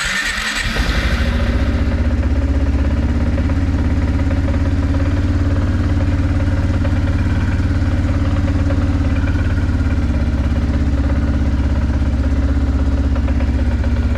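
A Kawasaki Prairie 360 ATV engine catches and runs steadily at close range, a loud, continuous mechanical drone that struggles to settle into an idle.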